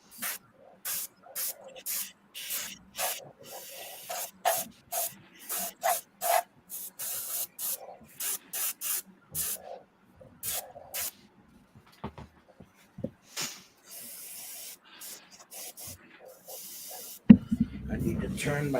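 Airbrush spraying paint on a Grinch-themed Christmas piece, driven by an air compressor: a run of short, regular hissing bursts up close, then longer steady hisses, with a thump and noise near the end.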